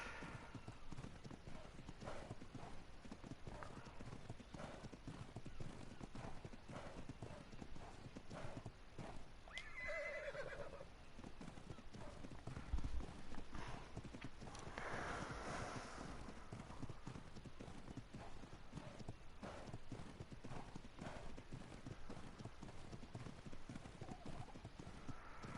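Rhythmic hoofbeats from a horse in the Ark video game clop on continuously, with a couple of neighs or whinnies rising briefly in the middle and faint talk underneath.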